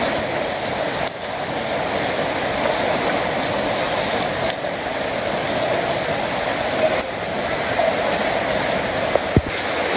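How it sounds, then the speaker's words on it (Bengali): Steady rain falls continuously, a dense even hiss of drops on surfaces throughout, with no speech. "আবারও বৃষ্টি নামছে"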